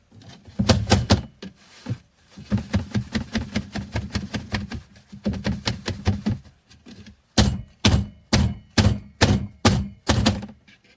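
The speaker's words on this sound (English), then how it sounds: "having them in a cookie sheet, you can bang them down easier" A rapid series of hard thunks as filled soap molds are banged repeatedly against a metal cookie sheet, in bursts with brief pauses, then slower, separate knocks.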